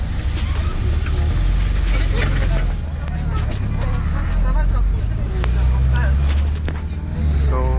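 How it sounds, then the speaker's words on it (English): A city bus rumbles through snowy Saint Petersburg, with low engine drone and rattling heard from inside the cabin, while people's voices murmur and talk over it. "The bus is taking me towards the metro station"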